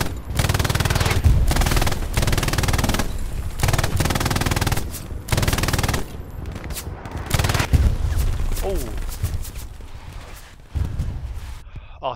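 Heavy artillery and automatic fire in the World War II shooter Hell Let Loose roar in long loud rumbling bursts, broken by short gaps, with people talking faintly beneath the barrage.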